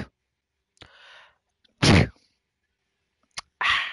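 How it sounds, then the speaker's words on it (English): A single sharp sneeze with an audible inhale beforehand, close and loud, followed by quieter breaths and sniffles in an otherwise quiet room. "I'm about to sneeze"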